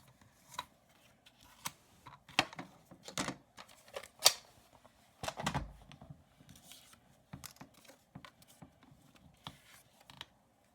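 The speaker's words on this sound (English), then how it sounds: "And then this one I'm going to cut" Scissors snip through paper for a craft project, a quiet series of short, irregular cuts with small pauses between them.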